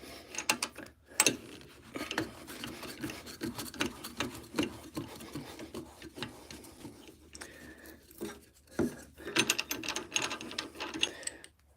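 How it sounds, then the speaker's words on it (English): A woodturning lathe's worm screw chuck being turned by hand, the kind used to hold logs and bowls, makes irregular metallic clicks and ratcheting gear-like ticks in short bursts, fairly faint and close, with no talk. "That's the worm screw, if anybody's wondering."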